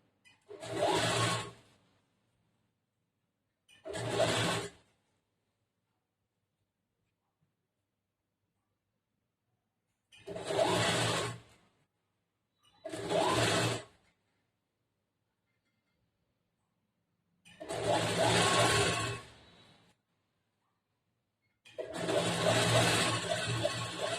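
A sewing machine stitching a blouse sleeve runs in six short bursts of whirring separated by silent pauses, the last burst longer than the rest. The machine is close and fairly loud.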